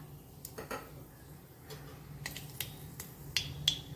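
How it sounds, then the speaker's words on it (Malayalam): Mustard seeds pop and crackle in hot ghee while tempering for kuruku kalan, an Onam dish, giving sharp, scattered, fairly faint clicks and snaps at an irregular pace. "കടുക് പൊട്ടി വന്നിട്ടുണ്ട്."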